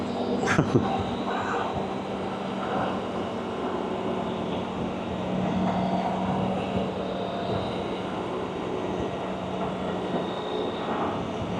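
A big high-horsepower motorcycle cruises through New Mexico, its engine a steady, droning roar blended with rushing wind that holds an even level throughout, with a short sharp knock near the start.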